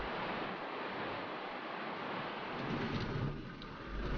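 Indus River water surging through narrow Karakoram mountain gorges, a steady broadband rush of waves and spray that holds at a constant moderate level for the whole stretch, with no voices.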